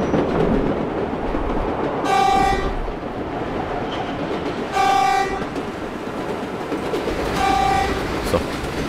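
A New York subway train horn in the World of Subways simulator game sounds three times in separate blasts over the constant rumble and rattle of the moving train, with someone speaking faintly.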